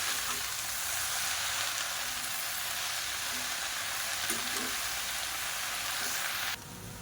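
Coriander leaves sautéing in a pan for mint thokku, giving a steady close sizzle and crackle with faint stirring, and no talk over it.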